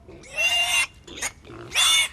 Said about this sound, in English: You still haven't told me what you're going to do with that pig.